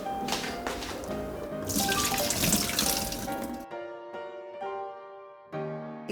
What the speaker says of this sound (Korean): 자, 이거는 이제 헹궈 올게요.